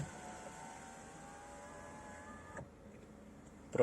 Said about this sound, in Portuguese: Tô abrindo aqui o teto. Vou abrir os vidros também.